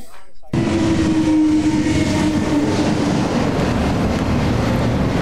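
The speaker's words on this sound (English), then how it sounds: "As the train passed" A train rushes past in a TV drama scene, its loud, rumbling roar bursting in abruptly after a brief quiet moment and holding steady with rail clatter and a sustained tonal hum.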